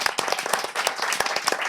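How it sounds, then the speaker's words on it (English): A small audience at a talk event claps briefly, with distinct, sharp individual claps in an uneven rhythm, fairly close and moderately loud. "a big round of applause for Sarah"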